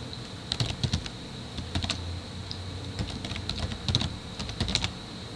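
Quick, irregular clatter of typing on a computer keyboard, with bursts of keystrokes and brief pauses, close and clear against quiet room tone.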